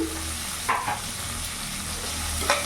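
Cauliflower florets frying with salt and turmeric, a steady soft sizzle with a few scraping stirs of the spoon, close and fairly quiet, no talking.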